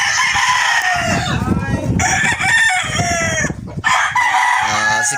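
Battle cocks at a gamefowl farm in Batangas crow loudly and repeatedly up close, with clucking between the crows.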